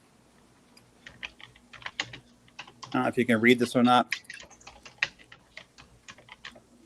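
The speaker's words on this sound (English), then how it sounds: "I hear typing" Typing on a computer keyboard gives a run of quick, irregular clicks, close and clear, that carry on while someone talks briefly in the middle.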